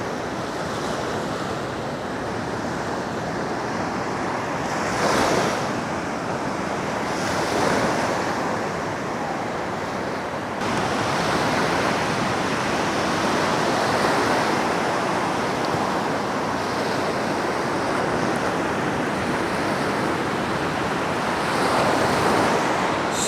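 Sea waves wash continuously onto Levante Beach in Benidorm after rain, a broad steady surf roar with periodic swells of breaking water and some wind buffeting the microphone.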